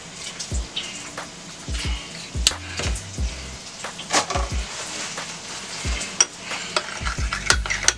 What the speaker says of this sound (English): Mix that up in there.